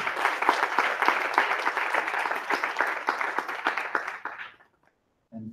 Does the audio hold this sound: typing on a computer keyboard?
no